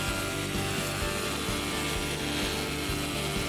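A Logosol SH410 planer machines one side of a wooden board, giving a loud, steady motor roar with continuous cutting noise throughout. No one speaks.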